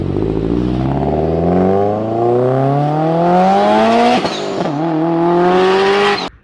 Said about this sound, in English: it came with unequal headers, so you don't know you're hearing Subaru rumble